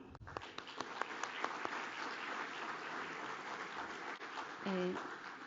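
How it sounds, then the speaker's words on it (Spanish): Steady applause from a crowd at an energy forum expert panel, many hands clapping continuously for several seconds, with a voice speaking over it near the start and a brief tone near the end. "Un fuerte aplauso, por favor."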